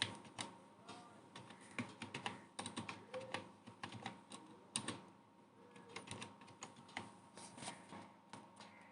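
Rapid, quiet clicking of keys on a computer keyboard as a folder name is typed, steady and close with no talking.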